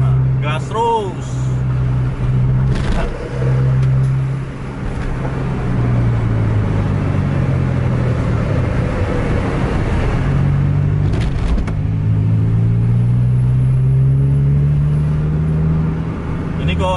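A racing bus engine in a video game drones loud and steady, its pitch rising and falling as it revs, with a voice talking over it throughout.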